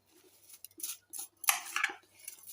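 Guava chaat with squeezed lemon juice being mixed in a bowl, a few short metallic scrapes and clinks of a spoon against the dish in quick irregular bursts, close and fairly quiet.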